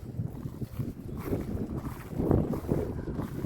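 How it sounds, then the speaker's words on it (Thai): Strong wind roars across an open outdoor spot, buffeting the microphone in rumbling gusts that build toward the end, steady and close. "ลมครับผมลมแรง"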